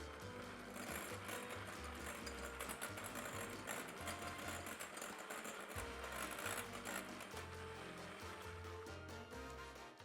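An electric whisk beats butter and cream cheese in a large bowl with a constant loud motor whir and a rattling, churning texture that holds steady throughout.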